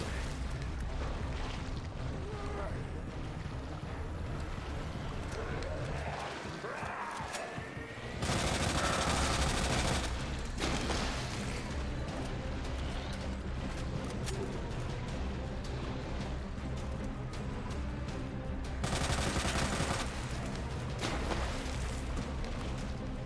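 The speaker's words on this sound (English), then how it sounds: "Damn, that machine gun is cool" Rapid machine-gun bursts fire in the dark survival video game Remake Survivors, a dense crackling barrage with two louder blasting stretches, steady and close, with no talk over it.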